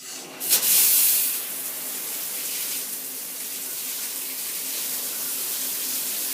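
Steady, broad hiss of a handheld shower head spraying water, starting with a brief bright burst and then running continuously at an even level.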